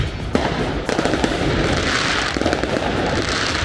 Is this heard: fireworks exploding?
yes